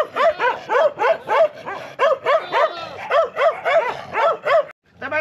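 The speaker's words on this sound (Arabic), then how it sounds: "الكلاب هذه تحجزها وتمنعها" Sheep-guarding dogs bark close by in a rapid, regular series of about a dozen sharp barks, with a short pause just before the end.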